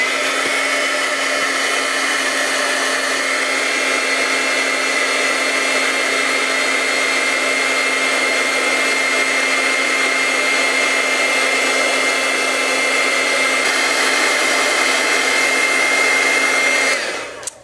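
A craft heat tool blows over embossing-style powder on a star ornament. Its fan-driven whine holds loud and steady without a break, then cuts off at the very end.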